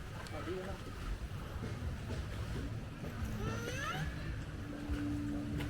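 Waves wash against the shore at Mutun Beach in Lampung, with boats on the water, making a steady wind-blown surf wash, while a boat motor drones low and voices talk over it.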